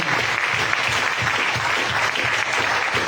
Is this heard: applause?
yes